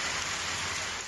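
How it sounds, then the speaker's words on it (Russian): Summer rain mixed with hail in Mogilev falls as a steady, dense hiss of drops on surfaces, heard alone, with no voices or breaks. "Первый летний дождь 2023 выпал с неожиданным дополнением в виде града."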